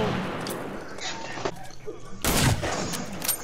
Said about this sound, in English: None of y'all are shooting at him and he's shooting straight.